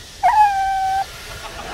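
A pet dog gives one thin, high-pitched whimpering howl lasting under a second against a quiet indoor background, with no talking.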